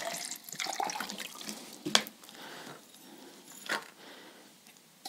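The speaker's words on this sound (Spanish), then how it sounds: "Vamos a añadir agua." Water is poured into a small soil sample for a homemade pH test, a light splashing, trickling pour with uneven surges and a few clinks, fairly quiet and close, with no talking.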